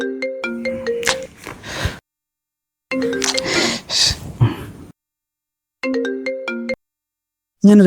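A mobile phone ringtone sounds for an incoming call, a bright repeating electronic melody in three bursts separated by silent gaps, loud and close, with a short trailing burst at the end.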